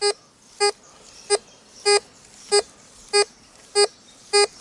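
Tesoro DeLeon metal detector sounding a high-pitched tone while testing a coin target: eight short, clear, evenly spaced beeps, each a brief ringing pulse, with quiet between them and no talk.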